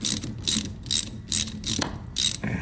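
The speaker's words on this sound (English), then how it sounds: "loosen up these 2 hose clamps" Ratcheting on the heater core hose clamps of a 1976 Ford Bronco, a quick series of bright metallic clicking bursts about every half second, close up and fairly loud, with no talking.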